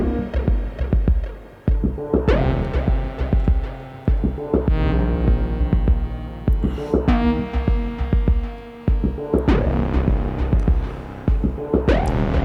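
A kick drum tuned down on an Elektron Octatrack during a live improvised set thumps in a steady repeating pattern, deep and loud, under layered synth tones and percussion, with brief drops in the beat.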